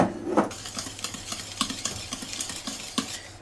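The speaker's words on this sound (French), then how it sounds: "Et là vous mélangez tranquillement." Chocolate speculoos cake batter is stirred in a bowl, with quick rhythmic scraping and light taps of the utensil, close and moderately loud, with no talking.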